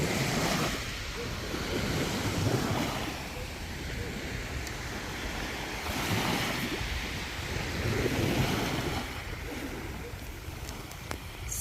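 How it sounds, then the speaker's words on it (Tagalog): Ocean surf rolls onto a beach as the tide comes in, with a steady roar that swells and eases in repeated surges, mixed with gusty wind buffeting the microphone. "Lumalakas ang alon. Pa-high tide na"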